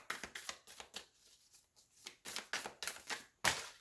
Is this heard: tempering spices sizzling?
no